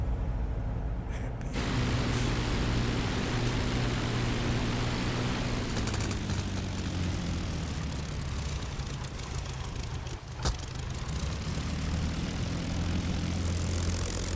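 A propeller tail-dragger plane engine in the flight game DCS World drones steadily and loudly, with its pitch shifting slightly partway through and no speech over it.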